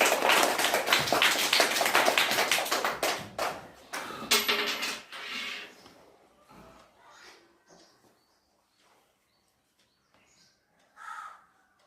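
Hand clapping in a classroom-style pencil game, a fast loud burst of many hands that thins into scattered claps and fades to near silence, with one brief sound near the end.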